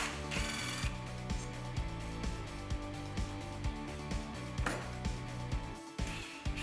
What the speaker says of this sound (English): Remove the 2 bolts and 2 screws that hold the kick-out to the mechanism.